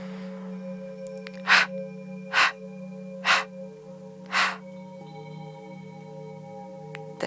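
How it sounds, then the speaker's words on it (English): Four forceful panting exhalations through the nose during a yoga breathing exercise, evenly spaced and close, each a sharp breathy whoosh over a low steady hum, then quiet breathing. "They're more like big panting out."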